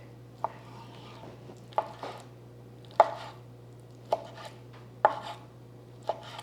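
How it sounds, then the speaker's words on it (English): A knife chops skinless fish into bite-sized strips on a board, six sharp cuts spaced about a second apart over a steady low hum, close and fairly quiet. "I'm just gonna cut into little bite-sized pieces"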